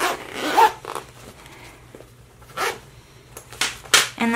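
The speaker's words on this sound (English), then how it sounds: "it might be easier to do the top stitching for this step if you unzip the zipper all the way" A zipper is pulled in several quick, close bursts, short rasping runs separated by brief pauses.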